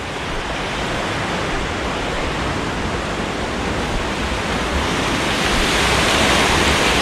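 River rapids on a fly-fishing stream in southwest Colorado rush in a loud, dense, continuous roar, close by and unbroken, with no voices.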